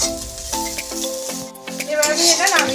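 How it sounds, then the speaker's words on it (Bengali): Shrimp tipped into hot oil for shrimp pakora sets off a bright sizzle that swells and crackles, with a brief dip and then a louder frying hiss, while a voice talks over it. "এবার আমি এই চিংড়ি মাছটা ঢেলে নেব।"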